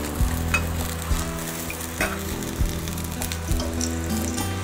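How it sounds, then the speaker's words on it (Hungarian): An omelette sizzles and fries in a pan, a steady crackling hiss with a few soft clatters and taps from handling, recorded close up in a home kitchen. "megsütjük ezt az omlettet"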